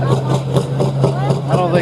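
A pulling tractor engine idling with a rough, pulsing low throb repeating about every quarter second, loud and close, while someone talks over it.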